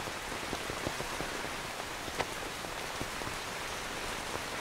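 Steady rain pours down on a surface, a dense constant hiss with scattered distinct drop taps, close and even throughout with no voices.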